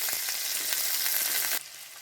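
Bay leaf, dried chili and whole cumin crackle and sizzle in hot oil, a dense, close hiss with small pops that drops sharply in loudness near the end; no talk.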